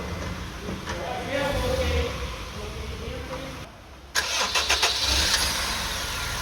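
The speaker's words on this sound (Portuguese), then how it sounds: "Agora vamos dar a partida no carro aqui, vamos dar umas 3 partidas para ver como é que vai ser." A Honda Civic engine is started. A steady starter and engine whir fades and drops quiet, then a sharper cranking catches and the engine runs. People talk nearby.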